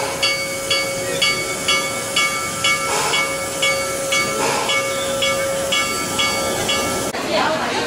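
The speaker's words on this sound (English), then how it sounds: "We're going to take the train ride through the Nairobi Sanctuary." A safari train ride at Walt Disney World hisses and rumbles steadily, with rhythmic rail clatter and a sustained tonal whistle-like drone, fairly close and loud, with no talk.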